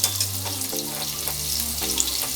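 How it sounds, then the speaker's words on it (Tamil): Sliced large onions fry in oil with spices for a vegetable kurma, a loud, dense sizzle heard up close and without pause, with no speech. "பெரிய வெங்காயம் கொஞ்சம் வதங்கட்டும். நல்லா கொஞ்சம் ப்ரௌன் ஆகிற வரைக்கும் நல்லா வதக்கி விட்டுருங்க."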